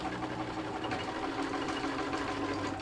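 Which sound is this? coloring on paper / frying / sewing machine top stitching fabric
sewing machine top stitching fabric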